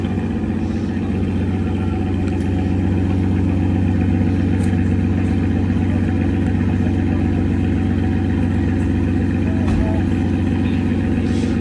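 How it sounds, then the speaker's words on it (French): Naturally aspirated V12 engine of an Aston Martin Vanquish coupé idling at Place du Casino, a steady deep rumble holding even for the whole stretch with faint street noise around it. "Écoutez le ronronnement du V12 atmosphérique"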